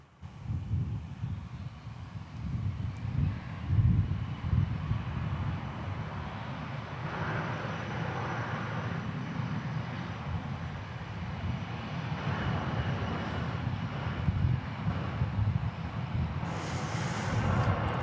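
A Contour Airlines airplane at DFW Airport gives a steady, broad engine roar with wind noise over the microphone, continuous and fairly close for the whole stretch, swelling slightly toward the end.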